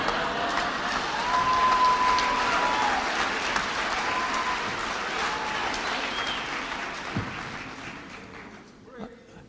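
An audience at a presentation applauds and cheers, a dense sustained wash of clapping that slowly tapers off near the end.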